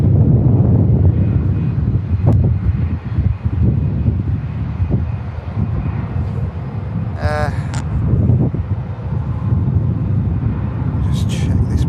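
Strong wind buffets the microphone outdoors at Manchester Airport, a steady loud rumbling roar throughout with faint distant aircraft noise and brief higher tones mixed in.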